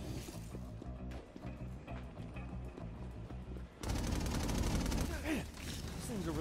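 Automatic turret gunfire in the inFamous Second Son video game: rapid rhythmic bursts of shots, swelling into a dense, loud fusillade with explosive clatter partway through.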